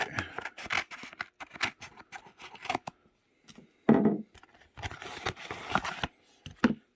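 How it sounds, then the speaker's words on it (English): Scissors cut across the top of a sports card mail package, a run of crisp close snips and paper rustles. A brief pause comes before a few more cuts, with no talking. "I'm just going to cut across the top this way."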